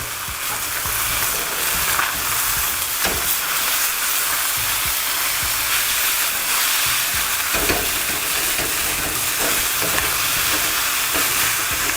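Spicy Korean takeout-style noodles stir-frying and charring in a hot wok, a loud continuous hissing sizzle with frequent scraping and tossing knocks throughout, close up with no talk.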